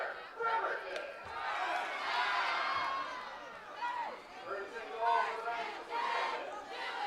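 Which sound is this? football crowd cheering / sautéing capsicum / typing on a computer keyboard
football crowd cheering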